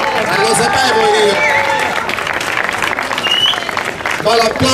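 An outdoor crowd applauds at a slalom car race prize-giving in Oppido Mamertina, clapping running throughout under loud chatter and shouting voices.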